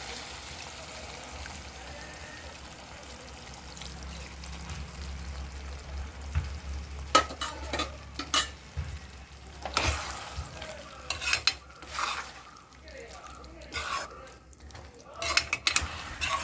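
Cornflour slurry goes into sizzling homemade American chicken chopsuey: a soft bubbling sizzle gives way to loud, irregular scrapes and clanks of stirring in the pan.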